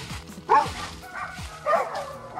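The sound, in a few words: big dog barking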